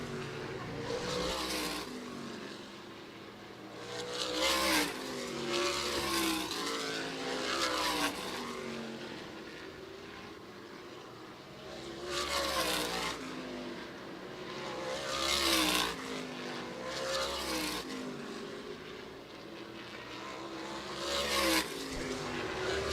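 Sprint race cars at Toledo Speedway roar around the oval in a loud, continuous engine drone that swells repeatedly as cars pass near through turns 3 and 4, with no speech.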